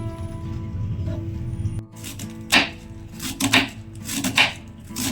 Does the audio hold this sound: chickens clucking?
no